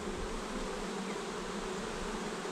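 Honey bees in a hive working comb during swarm-season management, a dense steady buzzing drone close by and unbroken throughout, with no voices.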